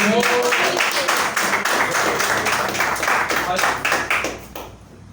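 A congregation at a home worship service claps their hands in a loud, dense, rhythmic burst that fills the room, then thins and fades near the end.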